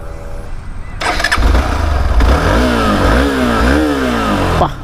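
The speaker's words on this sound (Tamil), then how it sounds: "ஸோ இப்போ வண்டி ஸ்டார்ட் பண்ணி மூவ் பண்ணிடலாம்" A 2022 Hero Xpulse 200 4V BS6 motorcycle cranks and fires up, then idles before being blipped in several rising and falling revs, loud and close, ending with a quick drop.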